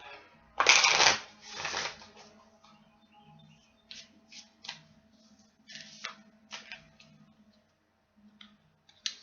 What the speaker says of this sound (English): while I'm shuffling and picking the cards